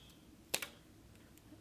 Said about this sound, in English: cut it with my scissors